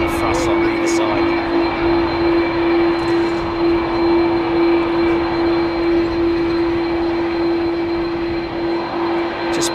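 Large jet airliner departing Heathrow at high takeoff thrust, engines rated around 115,000 pounds each: a loud, constant roar with a steady whining tone, close and sustained throughout.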